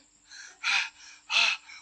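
A person gasps twice, imitating being unable to breathe: two sharp, breathy intakes spaced about half a second apart, with softer airy breaths between them, close and fairly loud, with no talk.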